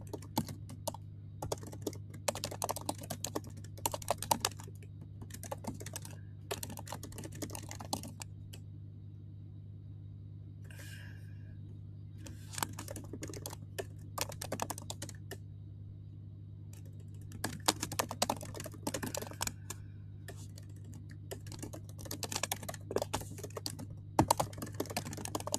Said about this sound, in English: I'm typing Witchy Weather Report.